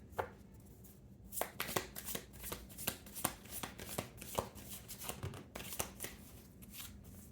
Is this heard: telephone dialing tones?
no